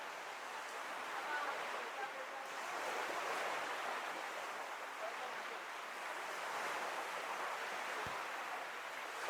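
Ocean surf rushes steadily against the shore as the tide comes in, a broad continuous wash of waves that lasts throughout, with wind noise and a single brief thump near the end.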